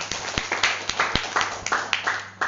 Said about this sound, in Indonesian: Ya, tepuk tangan dulu dong buat Awen.